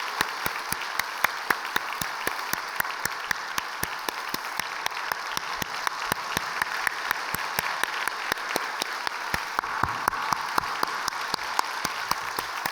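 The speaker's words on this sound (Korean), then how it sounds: "하나님께 감사의 박수를 치겠습니다." A church congregation claps during a Sunday service, keeping up a steady rhythmic unison beat of sharp, evenly spaced claps over a reverberant hall wash for the whole stretch, with no speech over it.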